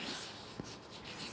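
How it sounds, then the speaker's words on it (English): A marker or pen scratches and squeaks across poster paper in short strokes, faint and close, with one soft tap partway through. "I'm going to write this information on my poster paper"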